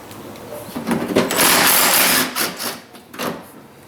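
A power tool fitted with a 7mm socket spins out a screw holding the corner of a bumper cover on a Pontiac Torrent or Chevrolet Equinox, a loud whirring burst of about two seconds rising and fading, then a few short bursts close by.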